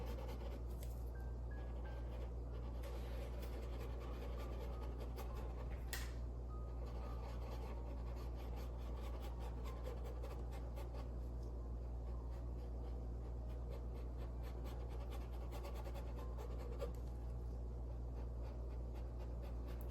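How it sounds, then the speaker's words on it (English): A paintbrush scrubs acrylic paint in small circles on canvas to soften a realistic background, making a faint, continuous dry rubbing that rises and falls over a steady low room hum. "I'm getting rid of hard lines on here by scrubbing in a circle"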